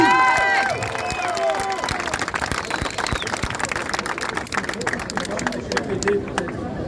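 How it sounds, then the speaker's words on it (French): Crowd at a rally in Paris against the expulsion of an imam applauds, dense clapping mixed with murmuring voices and shouts, loud and close at first and continuing under the babble. "Donc on les applaudit."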